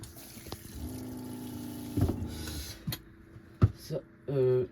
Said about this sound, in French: Ça, c'est ma pompe à eau pour faire couler l'eau.